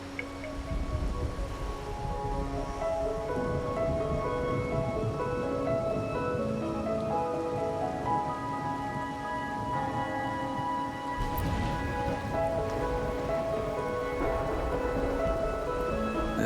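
Steady rain falls in the video game Wuthering Waves, a continuous wash of soft hiss and patter under a layer of sustained musical tones, with a brief swell of brighter splashing near the end.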